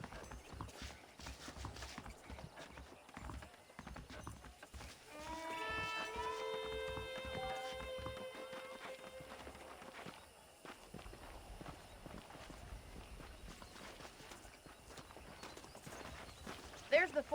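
Hooves clop at a steady walking pace in Red Dead Redemption, with a brief horse whinny partway through and faint background noise.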